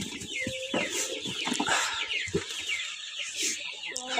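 Hens and young chicks cluck and cheep in a farm chicken coop, a busy overlapping flock close by with steady calls throughout.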